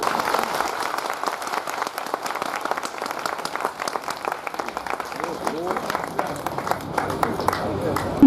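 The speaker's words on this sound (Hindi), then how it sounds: "अरे तालियां बजाने में क्या जोरदार स्वागत" Audience applause at a public ceremony keeps going as a steady patter of many hands, while a voice talks loudly over the clapping throughout.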